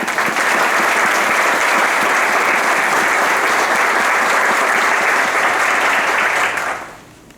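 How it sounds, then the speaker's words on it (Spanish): An audience gives loud, sustained applause to welcome the family of Alberto Chimal at a reading-month event, a dense, even clatter of clapping that holds steady before fading out quickly near the end. "Sean bienvenidos con un afectivo aplauso."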